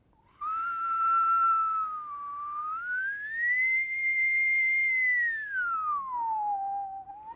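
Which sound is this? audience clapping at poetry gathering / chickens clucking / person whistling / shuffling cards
person whistling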